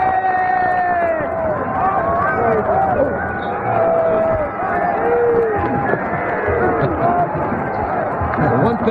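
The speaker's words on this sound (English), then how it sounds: "Show us your zonies cheer" End zone fans at the 1982 Tangerine Bowl college football game between Auburn and Boston College roar through a group cheer, a loud, dense crowd of voices rising and falling, with a voice talking over it.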